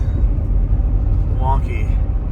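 High-mileage, badly damaged Cadillac Escalade pulling away in third gear after a gear change, a steady low engine and road rumble heard from inside the cabin, with a short rising whine partway through.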